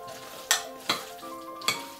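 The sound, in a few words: mixing quinoa tabbouleh with spring onions in a bowl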